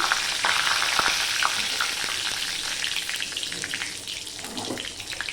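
Whole spices temper in hot oil for a fish head dish with Malabar spinach, giving a steady, bright crackling sizzle, with occasional soft clinks and stirring sounds over it.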